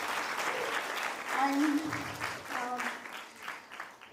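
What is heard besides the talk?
audience applause for teachers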